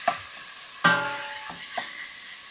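Meat for Japanese curry sizzles in a pan while being stirred, with a few sharp scraping clanks of the utensil over a continuous frying hiss, close and without speech.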